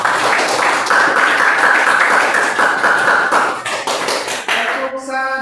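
A classroom group applauding together after a presentation, dense steady clapping close by that thins out toward the end as a voice begins.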